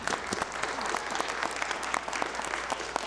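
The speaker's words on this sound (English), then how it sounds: "if everyone could give you one big round of applause" Applause from the attendees of a school board meeting, a moderate patter of many hands clapping with distinct sharp claps standing out, fairly quiet and continuous for a few seconds.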